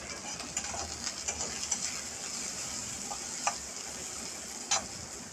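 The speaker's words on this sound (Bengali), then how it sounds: "এইভাবে নেড়ে চেড়ে আমি পেঁয়াজগুলো ভেজে নেব।" Chopped onions frying in oil while being stirred, a soft, steady sizzle with light scraping ticks and a few sharper clicks from the utensil against the pan, quiet and without voices.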